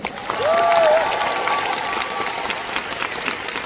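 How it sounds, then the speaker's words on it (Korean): Concert audience at a Phantom Singer 4 Forténa show in Seoul claps for the staff, a moderate, even wash of applause with a brief swell early on that then holds steady. "박수 부탁드립니다"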